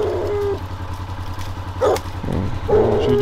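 Coonhounds bark a couple of times in short bursts over a steady low rumble of a passing train, outdoors in the desert of southern New Mexico at night during a coon hunt.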